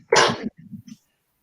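A single sharp human sneeze, close and fairly loud, followed by a few short softer voiced sounds, then quiet.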